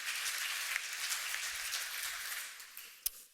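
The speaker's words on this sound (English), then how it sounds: "So please welcome Ramsey with a big applause." A conference audience gives a dense, steady wash of applause to welcome a speaker at a business talk on generative AI. The clapping holds evenly and then thins out toward the end with a few last claps.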